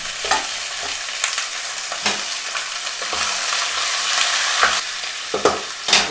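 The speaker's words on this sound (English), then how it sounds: "This is sauteing the ribs and the sausage" Baby back ribs and chopped sausage sauté in extra virgin olive oil, giving a steady close sizzle and crackle broken by intermittent stirring scrapes and clatters.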